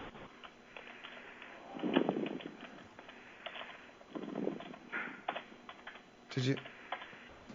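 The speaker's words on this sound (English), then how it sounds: "Are you typing?" Faint computer keyboard typing heard over a phone line, with irregular clusters of soft key taps.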